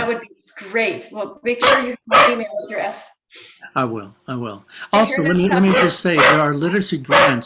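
A dog barks and yips repeatedly in the background, sharp and fairly loud, while two people keep up a conversation over it during a video meeting about literacy support.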